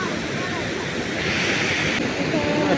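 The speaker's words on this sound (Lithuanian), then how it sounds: "O, koks kriuklėlis." A small waterfall on the Babrungas river rushes in a steady, close, broadband roar that swells slightly midway, heard alone without talk.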